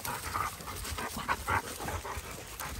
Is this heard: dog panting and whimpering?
yes